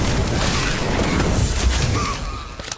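Loud roaring burst of an Incendio fire spell in Harry Potter Magic Awakened, a dense crackling whoosh that holds steady and then fades at the end.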